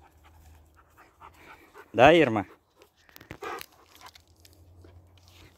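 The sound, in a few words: dog panting and chewing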